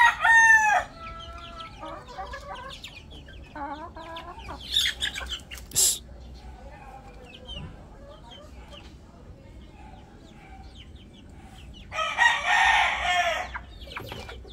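Chickens and small chicks in a pen call in short bursts: clucks, chirps and a rooster's crow rise out of quiet stretches, loudest near the start and again toward the end.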